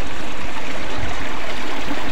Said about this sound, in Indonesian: Ini guys sumber mata airnya